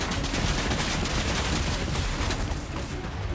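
Rapid, dense gunfire in the video game Fortnite rattles continuously in a loud, sustained burst that eases slightly near the end.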